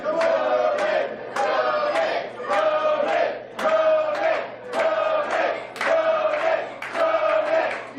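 Crowd at a John McChesney versus John Rodin arm-wrestling match chanting and cheering in a steady repeated rhythm of roughly one shout per second, loud and continuous with voices blending together.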